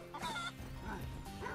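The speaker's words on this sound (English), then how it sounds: "Chicken?" A chicken clucks in Spyro the Dragon, with short choppy game-audio clucks layered over background music and effects at low volume.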